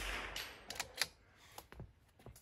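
Faint rifle shots on a long-range precision rifle course aimed at a 1-inch steel target, a few sharp distant cracks spaced apart over quiet outdoor background.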